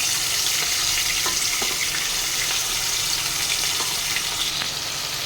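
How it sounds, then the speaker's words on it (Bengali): Pomfret pieces frying in oil in a wok give a steady, close, fairly loud sizzle with scattered crackles and pops throughout, and no one talks. "মাছগুলো এবার সবগুলো ভেজে নেব"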